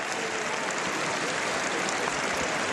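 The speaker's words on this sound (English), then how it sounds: "You can probably hear the square clapping" A crowd packed into a town square claps before a horse race, a dense continuous wash of applause at moderate distance, steady and unbroken throughout.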